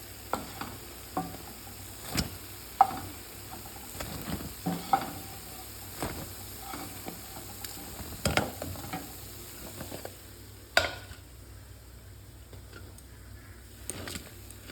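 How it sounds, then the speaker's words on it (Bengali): Bora fritters fry in hot oil, giving a faint, low bubbling sizzle broken by sharp ticks and scrapes from a spoon against the pan. "আবারও কিন্তু একই রকমভাবে লাল লাল করে পরবর্তীতেও আর একবার এই যে ভেজে নিলাম সমস্ত বড়া"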